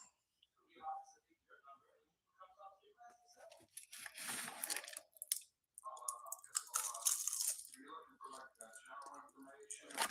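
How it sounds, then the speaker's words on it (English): Someone chewing food close to a microphone during a live stream, with soft crunching and wet mouth sounds coming in irregular bursts, faint overall with quiet gaps between. "Pardon my chewing."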